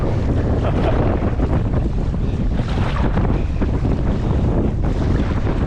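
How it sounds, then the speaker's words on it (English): Strong winter wind blowing hard over open water around a light inflatable kayak, heavy roaring gusts buffeting the microphone continuously, with waves washing underneath and no talk. "Now you can see the wind picking up quite significantly"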